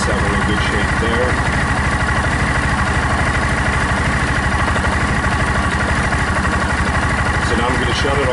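Cub Cadet Challenger 750 utility vehicle engine idling close by, a steady rhythmic low chugging pulse that holds evenly throughout with no change in pace.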